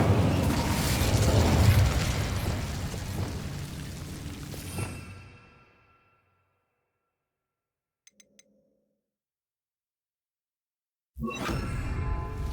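The Incendio fire spell in Hogwarts Legacy, a loud roaring burst of flame that whooshes and fades over several seconds into near silence, followed by a few faint clicks, then ambient sound returns abruptly.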